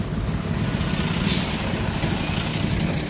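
A truck rumbles on a highway near a ghat section backed up by an accident, its low engine drone steady and close, with hissing bursts like air brakes partway through.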